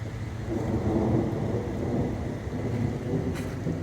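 Low rolling thunder rumbles steadily outdoors as a rainstorm approaches, with a soft wash of rain and wind noise underneath and no voices.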